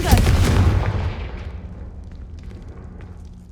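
A Confringo fire spell explodes in Hogwarts Legacy, a loud booming burst right at the start that rolls off into a fading rumbling tail over several seconds.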